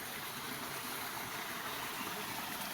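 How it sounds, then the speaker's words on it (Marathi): Steady, broadband rush of water flowing into a full village well, continuous and fairly even throughout, like water pouring or gushing nearby with no voices. "हे कसं पाणी येत आहे"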